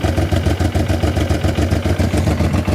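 A 1995 Honda Africa Twin motorcycle with an aftermarket exhaust idles steadily nearby, a loud, even, pulsing thrum with a throaty low tone and no talk.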